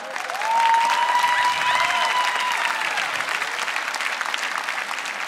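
Applause from a comedy show audience swells quickly, then settles into steady clapping with a voice briefly heard over it.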